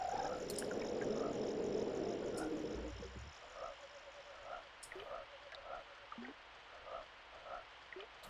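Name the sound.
frogs croaking in Secret of Evermore video game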